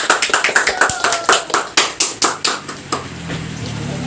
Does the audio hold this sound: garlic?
no